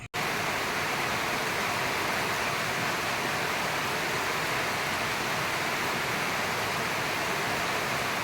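Afternoon rain falls steadily, a continuous even hiss that stays constant and fairly loud from start to finish with no voices over it.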